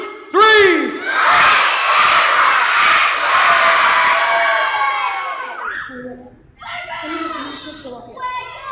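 A large group of children at a vacation Bible school skit screams loudly together on cue, a sustained shrill roar lasting about five seconds before fading, followed by higher, scattered shouts.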